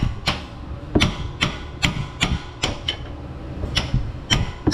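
Sharp metal-on-metal hammer blows strike a socket wrench extension while a lower control arm is worked on a 2010 Chevrolet Equinox 3.0 AWD, about a dozen close, loud impacts in an uneven rhythm.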